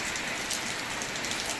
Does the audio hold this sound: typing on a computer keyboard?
no